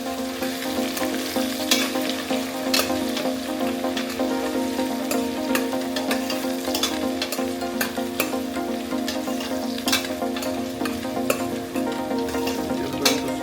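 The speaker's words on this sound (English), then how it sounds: "You're going to saute it for few minutes." Chunks of mutton sautéing in a pot for homemade paya, a continuous close crackling sizzle with frequent sharp spits and pops throughout, under a steady hum and without speech.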